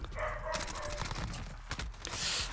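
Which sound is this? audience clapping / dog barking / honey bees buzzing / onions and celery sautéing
dog barking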